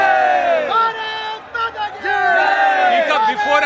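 A dense stadium crowd at the Narendra Modi Stadium celebrates India's ICC World Cup 2023 cricket win over Pakistan, with loud, continuous shouting and chanting voices that swell and dip throughout.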